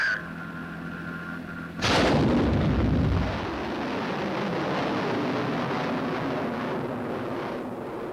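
Guided missile launching at White Sands Proving Ground, a sudden loud blast that breaks into a long rumbling roar and fades slowly into a sustained distant thunder, heard alone.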